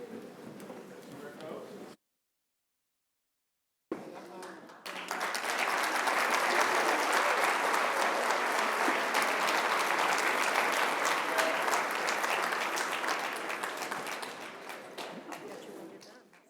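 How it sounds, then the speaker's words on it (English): Audience at a disabilities summit breaks into a long, loud burst of applause after brief talk, the clapping swelling to a dense steady roar before tapering off. "One more round of applause."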